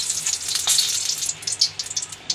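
Bay leaves dropped into hot oil in a frying pan sizzle loudly and close, crackling in uneven bursts and spits with no talking.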